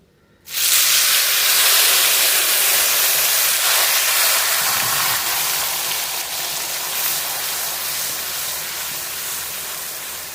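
Ground onion paste hits hot oil with whole garam masala while Doi Katla is being cooked, bursting into a loud, steady sizzling hiss that continues for several seconds and slowly eases.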